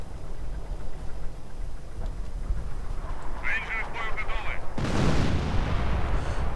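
Artillery barrages pound the field in a 2v2 World War II strategy game match with Soviet and German forces. A continuous low rumble of distant shelling swells into a louder, heavier blast near the end.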